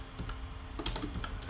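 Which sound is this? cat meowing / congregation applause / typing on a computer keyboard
typing on a computer keyboard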